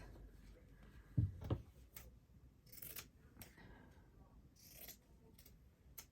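Scissors cut down notebook material for a slow-stitch notebook spine, with a few quiet, close snips spaced over several seconds and soft handling noise between them.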